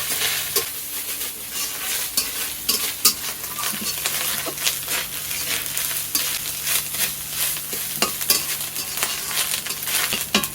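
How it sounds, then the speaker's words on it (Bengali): Grated coconut fries in a pan until reddish for a prawn and taro malai curry, giving a continuous close sizzle with frequent spatula scrapes and light metal clinks as it is stirred. "নারকেল পোড়াটা একটু ভালো করে ভেজে নিতে হবে"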